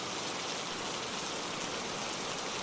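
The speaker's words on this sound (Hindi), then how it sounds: "मुझे नहीं लगता कि बारिश बंद होगी" Heavy rain pours in a dense, constant hiss, loud and unbroken throughout with no voices.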